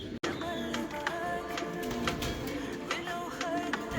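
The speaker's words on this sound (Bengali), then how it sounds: "খামারে কবুতর আর কবুতর" Show king pigeons coo and flutter on a farm, several soft overlapping calls with light taps and rustles close by, a continuous busy background of birds.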